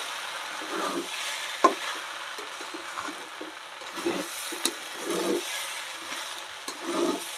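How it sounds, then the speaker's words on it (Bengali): Khichdi of chana dal and rice boils in a pot on a village stove, giving soft, irregular bubbling pops and gurgles close by, with a few sharper clicks and no talking. "পটপট করে ফুটছে"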